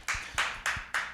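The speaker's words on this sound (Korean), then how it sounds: "박수!" Hands clap four times in an even, brisk rhythm during a Korean church service, each sharp clap close and distinct with no talk around it.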